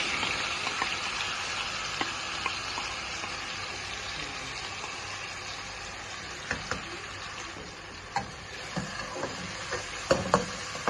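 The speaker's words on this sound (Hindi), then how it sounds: "प्याज़ों का जो अब पेस्ट है हम अब ऑयल में डाल रहे हैं।" Steady sizzling of onion paste frying in hot oil, with occasional light clinks and stirring sounds toward the end.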